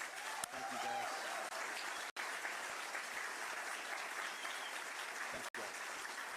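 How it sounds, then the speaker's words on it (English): A room applauds law enforcement representatives at a Titusville event with Governor DeSantis and Sheriff Ivey, a sustained crowd clapping wash that stays even, broken by a few sharp clicks and brief dropouts, with faint talk underneath. "They deserve your round of applause"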